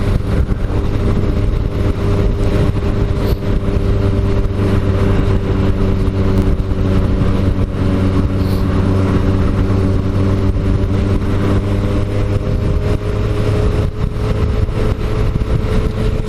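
A steady car engine drones at a constant pitch, with continuous road and wind rumble, loud and close throughout with no talking.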